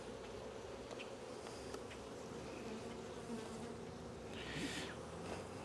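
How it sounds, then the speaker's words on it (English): Honey bees buzz steadily around an open hive during an early spring inspection of a strong colony, a dense, continuous drone close by with no talking. "Busy, busy bees."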